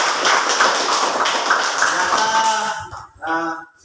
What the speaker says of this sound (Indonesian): tepuk tangan untuk Pak Vidya.